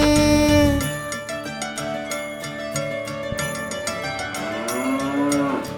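A cow lows in a children's rhyme: one long, loud moo at the start, then the mooing is woven through the bright sung melody and instrumental backing.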